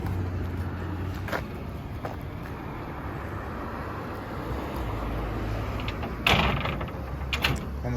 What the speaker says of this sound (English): It's also going to start the sequence to have the ramp come out.